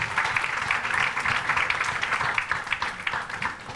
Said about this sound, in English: could I request a big round of applause for him, please?